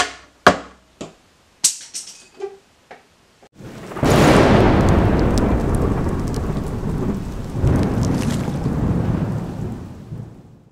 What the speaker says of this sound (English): If you hear some thundering, that's because it's actually thundering outside.